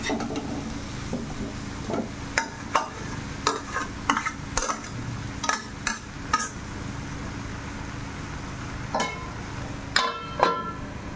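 Vegetables for a shola kochu and dried churi fish dish stirred and sautéed in a pan, with a soft frying hiss under repeated sharp scrapes and clinks of the spoon against the pan.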